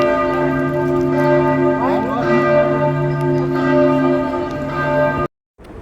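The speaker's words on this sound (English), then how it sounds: "You heard the sound of the majestic church bell, right?" A large church bell in Berlin rings close and loud, its rich ringing tones sustaining and overlapping before the sound cuts off abruptly near the end.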